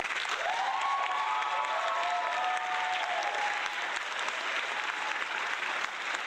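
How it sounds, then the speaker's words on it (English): Steady, dense applause from a crowd, loud and continuous for several seconds with a little cheering mixed in, thinning slightly toward the end. "He always overdoes the applause"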